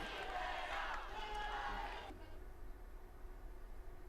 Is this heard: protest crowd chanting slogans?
yes